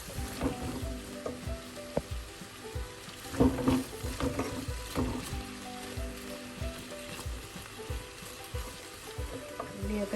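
Onions and masala sizzle and fry in a pan at a quiet, steady level while a spoon stirs them, with intermittent scraping and clinking scattered throughout for a chicken curry.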